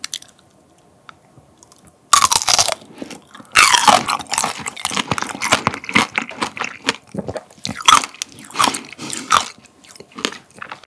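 Strawberry tanghulu with a thin hard sugar coating is bitten with two loud, close crisp crunches, followed by wet chewing and smaller crackles and squishes of fruit and candy shell.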